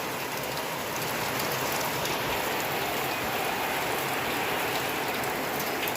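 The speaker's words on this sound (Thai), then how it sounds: "มือนี่กับฝนตกพี่น้องเอ้ยเนาะ" Steady, heavy rain pours down without a break, a dense hiss of drops hitting surfaces close by.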